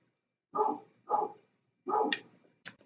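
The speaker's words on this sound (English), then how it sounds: "Man, he is just really barking." A pet dog barks in a room, three loud close barks in quick succession followed by a couple of sharper yips, with silence between them.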